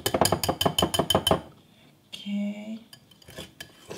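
Homemade body cream mixture stirred in a bowl, heard as a quick run of about eight sharp clinks of a utensil against the bowl, then a brief scrape and a few softer knocks, close and alone.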